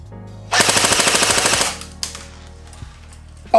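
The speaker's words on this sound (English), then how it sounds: "let's put it on full auto and see what rate of fire we get" A Snow Wolf M41A airsoft pulse rifle fires one full-auto burst of about a second, a loud rapid rattling stream, followed by a single sharp click and then quiet.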